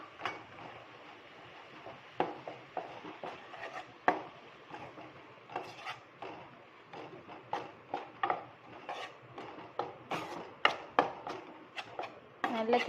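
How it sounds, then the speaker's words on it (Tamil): Wheat flour being stirred in a pan with fried almonds and cashews for wheat halwa, giving a steady run of sharp scraping and tapping strokes of a spoon against the pan, close and fairly quick. "இப்போ வந்து ஒரு கப் கோதுமை மாவை இதில் போட்டு நல்லா கிண்டி விடுவோம்"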